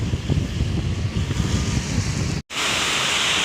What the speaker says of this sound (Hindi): आवाज़ भी आ रही है बारिश की। कितनी तेज स्टार्ट हो गई ना बारिश।